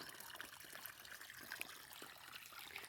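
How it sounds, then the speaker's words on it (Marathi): Very faint water trickles and dribbles steadily onto a lemon plant outdoors, a soft continuous flow with small splashy ticks, heard alone. "लिंबणीवरती पाणी चाललंय"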